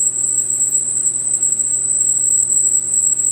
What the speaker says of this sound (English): That's air. I just don't know where it's coming from.